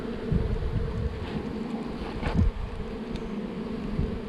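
Honey bees buzzing densely around an open hive during a colony split, a steady close hum with individual bees droning past the microphone and some wind noise.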